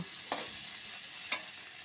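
Onions, ginger-garlic paste and chopped tomatoes fry in oil for a fish curry, giving a faint, steady sizzle broken by two soft spoon taps.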